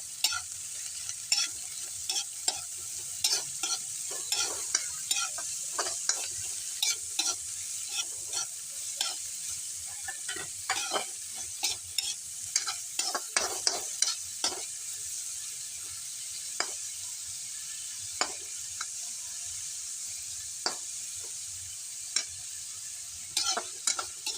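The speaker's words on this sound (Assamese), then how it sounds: "তাৰপিছত অলপ এনেকৈ ভাজি দিছে" Maggi noodles stir-fried in a pan, with a soft steady sizzle broken by frequent sharp scraping clicks from a spatula, fairly close and without talk.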